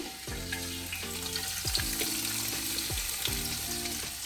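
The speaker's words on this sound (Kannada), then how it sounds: "ತುಪ್ಪ ಹಾಕಿ ಫಸ್ಟಿಗೆ ಆನಿಯನ್ ಎಲ್ಲ ಫ್ರೈ ಮಾಡ್ತೀನಿ" Onions frying in ghee in a home kitchen pan, a steady close sizzle with several sharp stirring scrapes of a utensil spaced through it.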